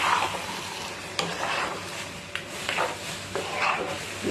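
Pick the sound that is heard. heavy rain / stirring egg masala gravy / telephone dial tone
stirring egg masala gravy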